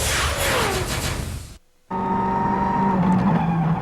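Rally car engine roaring loudly from on board on a tarmac stage at the 2003 Rallye Deutschland, driven by Grönholm, with a brief cut to silence before steady high-revving engine noise resumes.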